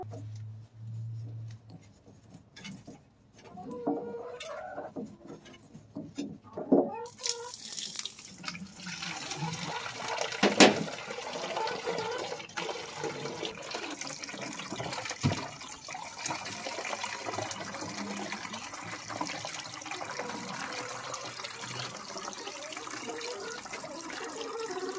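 Water flows steadily from a half-inch garden-hose type ball valve on a 55-gallon water barrel, a continuous splashing rush starting after a few seconds of quiet and running on loud and close.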